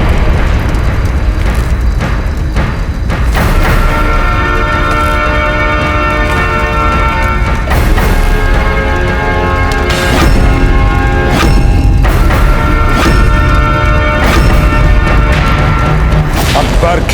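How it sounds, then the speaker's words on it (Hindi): A big explosion tears through an enemy army camp in a historical drama, with loud, booming blasts and a sustained roaring rumble, mixed with ringing, bell-like tones throughout. "के अपने खेमे में इतना बड़ा धमाका"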